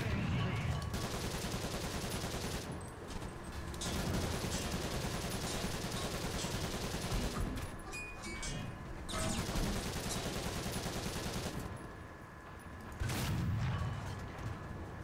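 Machine gun fire from an ARL-44 tank squad in a tank battle game, in loud, sustained rattling bursts that run almost without pause, broken by a few short gaps.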